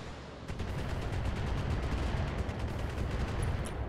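Rapid volleys of mech weapons fire in the BattleTech video game, a dense, loud barrage of overlapping booms and impacts with sharp repeated cracks, sustained and without voices.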